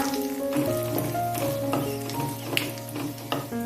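Curry leaves sautéing in hot oil for a dates pickle give a steady, close sizzle with light stirring clicks now and then.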